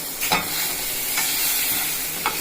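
Food is stirred in a frying pan for lunch, the spoon making a few distinct scrapes over a constant close sizzle, with no talking.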